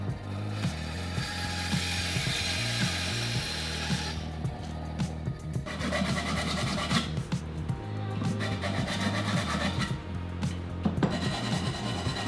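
Steady rhythmic rasping of sandpaper rubbed back and forth, rounding over the leading edge of a wooden piece, close and continuous, with soft music playing underneath.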